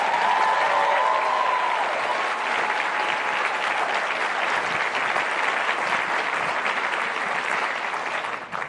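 Audience applause at NASA's reveal of the first James Webb Space Telescope science images, a loud, sustained burst of clapping from a large crowd that holds steady before easing slightly at the end.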